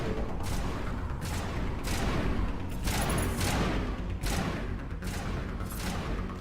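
Rapid bursts of energy weapon fire from a first-person alien shooter game, a near-constant barrage of punchy shots with pulsing thumps throughout, loud and dense with no pauses.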